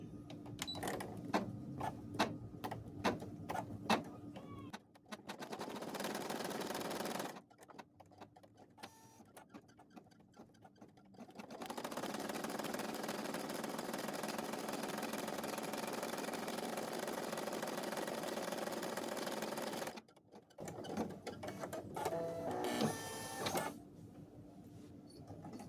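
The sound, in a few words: sewing machine stitching down the center back of a cloth doll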